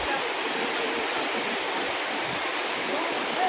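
Labasin waterfall pouring steadily, a loud, dense broadband roar of falling water filling the whole stretch without a break, close by.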